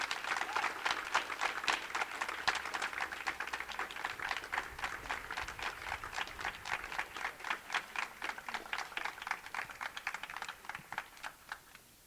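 Faint, thin clapping from a small group at a graduation ceremony, the individual claps distinct and evenly paced, continuing steadily throughout and sounding distant and quiet.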